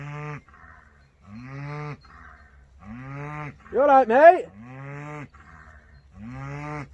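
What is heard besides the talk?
cows mooing in a field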